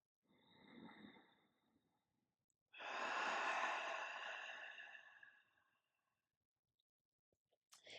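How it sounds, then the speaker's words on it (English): A slow, deep inhale and a long, full exhale during a morning yoga flow, close and soft with a brief pause between breaths and no talking. "Taking a full body cleansing breath."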